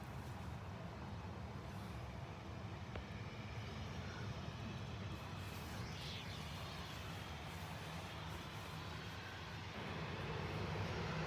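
A Lufthansa Mitsubishi CRJ jet at Manchester Airport throttles up its engines, heard as a distant, steady broadband roar that swells slightly toward the end, with faint traffic-like background noise.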